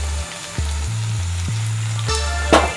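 Garlic, ginger, green chilli and tomato fry in a pan, giving a soft steady sizzle under a droning low hum, with a short louder crackle near the end and no speech.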